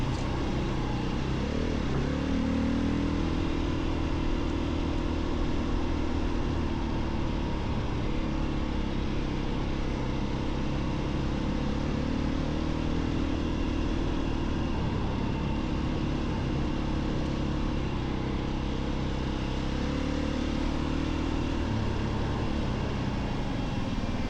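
A 2024 Beta 500RS motorcycle rides through Golden Valley, Arizona, with a loud, continuous engine drone and wind rush that swells and eases slightly as it travels, and no talk heard.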